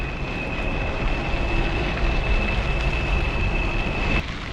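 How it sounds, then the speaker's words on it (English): A passing train rumbles steadily and loudly alongside the Great Allegheny Passage rail trail between Rockwood and the Mason Dixon Line, a broad continuous roar with a sustained high tone running throughout, with no talking. "That is a train."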